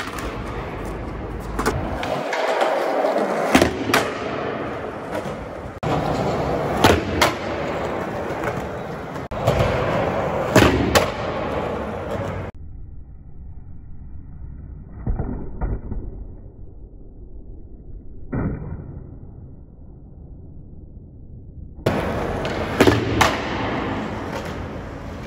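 Skateboard rolling and clattering through wallie tricks outdoors: rough wheel rumble punctuated by sharp board impacts and thuds, with a quieter stretch midway before the rolling resumes.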